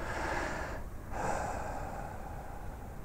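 Steady breathing close to the microphone during abdominal breathing practice, with one soft exhale through the nose, a faint airy snort-like rush, and a short pause before the breath continues.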